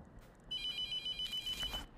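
A telephone rings in a horror video game with a rapid, bright electronic trill repeated in quick pulses, clear and fairly close against a quiet background.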